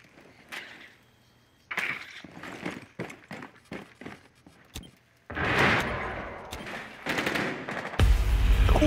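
Gunfire in Rainbow Six Siege, a Skyscraper team deathmatch: scattered sharp shots, then a dense fusillade of rapid bursts in the second half, close and loud, ending in a heavy blast.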